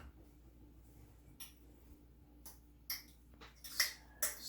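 Vegetables and potato mash being added to a pot of Senate bean soup, heard as a few scattered clinks and scrapes of utensils against the pot, quiet and close, with no talking.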